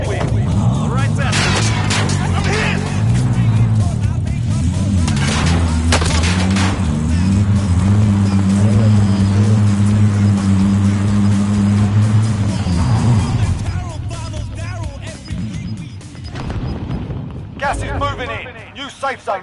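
In the Call of Duty Warzone video game, a vehicle drives with a loud, sustained engine drone that holds steady for several seconds, then drops away amid game noise and scattered sharp impacts.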